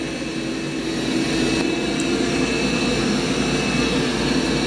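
A robot vacuum-and-mop cleaner runs nearby with a loud, steady motor drone and broadband suction hiss, continuous throughout.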